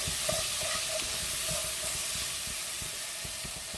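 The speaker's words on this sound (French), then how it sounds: "Mélangeons bien." Fish fillet in a spiced coconut milk sauce being stirred in a pan, with a steady close sizzle and bubbling hiss running throughout and soft scraping stirs beneath.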